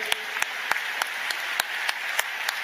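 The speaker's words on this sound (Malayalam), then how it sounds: "കൈകൾ ഉയർത്തി കൈയടിച്ചേ." A church congregation claps in a steady, even beat, each sharp clap landing at regular intervals over a constant background hum.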